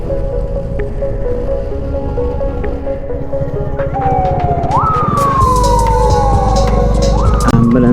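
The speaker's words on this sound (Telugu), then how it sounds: "అంబులెన్స్ వెళ్తుంది." An ambulance siren wails past on a highway, rising and falling in long sweeping tones that grow louder over steady road and engine noise.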